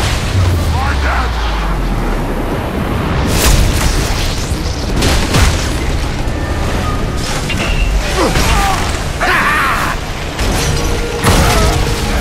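Explosion in the video game Bulletstorm at a dam's magnetodynamic generator, a loud sustained series of heavy booms and crashing debris rumbling for several seconds, with game voices talking over it.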